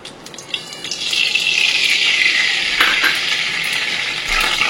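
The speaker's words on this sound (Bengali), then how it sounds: "কড়াই গরম হয়ে গেছে, কড়াইতে একটু সাদা তেল দিয়ে দেবো।" White oil heating in a hot kadai gives off a steady, close sizzle and crackle that swells after the first half-second and holds fairly loud with no talk.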